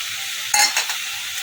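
Prawns and green chillies fry in a pan and are stirred, with a brief burst of sizzling and scraping in the middle, then a steady low hiss.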